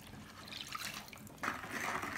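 Sugar being stirred into alcohol for homemade soap, a faint liquid swishing and clinking of a spoon in a container, quiet and continuous, louder near the end.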